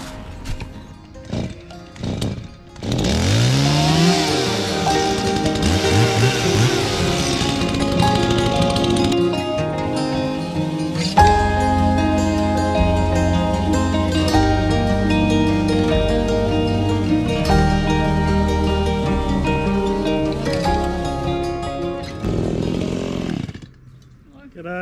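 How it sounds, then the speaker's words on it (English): A freshly sharpened Stihl Mini Boss chainsaw revs up and bites into a log, a loud close rasping whine that bogs and recovers through a long steady cut before dying away, with a few short knocks at the start. "So this log is going. I've just sharpened the saw."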